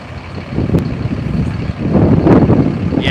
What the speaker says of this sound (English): Look at the traffic leaving Bellagio